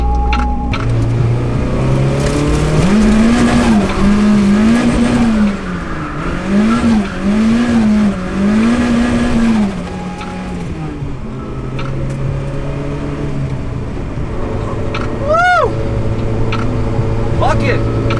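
A Nissan S13 drifts through a corner at night. Its engine bounces off the rev limiter in repeated rising and falling waves while the tires squeal, loud and close, and a driver talks over it.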